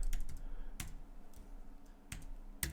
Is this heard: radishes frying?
no